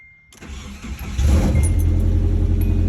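A Nissan 240SX S13 engine cranks and catches, building from a brief starter whir into a loud, steady, close-up idle that holds to the end with no talking.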